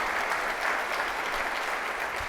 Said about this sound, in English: Give John a round of applause, would you?